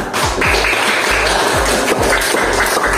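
Children in a classroom clap together in a quick, regular rhythm of sharp claps that repeats close by, with no speech over it.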